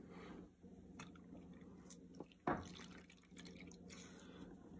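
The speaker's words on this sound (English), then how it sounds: "I'm just gonna get my magic eraser kind of damp." Water dripping and trickling onto a magic eraser sponge to dampen it for cleaning boot soles, heard as faint, soft wet drips with one sharper splash midway over a quiet background.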